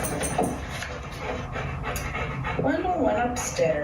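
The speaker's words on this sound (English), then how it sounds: "The whining you hear in the background is my dog" A dog pants and whimpers nearby with rising whines, heard alongside a person reading aloud indoors.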